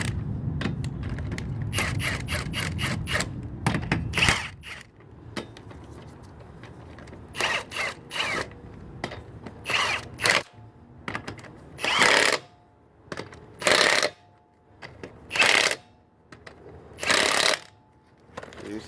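Wheel lug nuts being tightened in a star pattern, first a fast clicking ratchet run and then a series of sharp, separate clicks and bursts with pauses between them, close by and with no talking.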